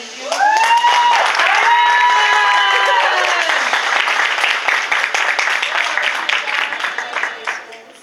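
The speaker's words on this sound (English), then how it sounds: "Applause please, thank you." Graduation ceremony crowd applauding a graduate, dense steady clapping across the hall with voices and cheers rising over it early on, then the clapping gradually fading out.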